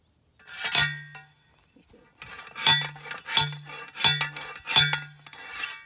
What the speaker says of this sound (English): this is my stake pounder. Love this tool.